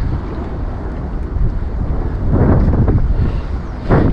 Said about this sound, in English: It's so windy, man.